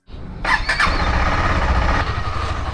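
A KTM motorcycle engine cranks with a short squeal and catches, then settles into a loud, close, steady idle with no talk.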